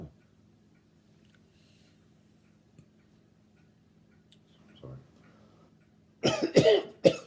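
Three sharp coughs burst out close and loud near the end of a quiet lecture on the books of Judges and Ruth, after several seconds of low room hum.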